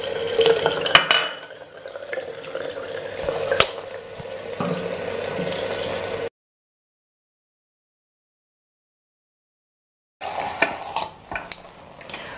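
Running tap water splashes into a sink as a makeup brush is rinsed, a steady close wash that cuts out for several seconds of silence before the flow resumes.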